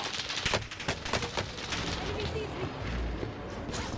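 Rapid gunfire bursts and explosive cracks from a Call of Duty Warzone match on Rebirth Island rattle densely through the first half, followed by a deeper rumbling boom, with a game voice heard among the noise.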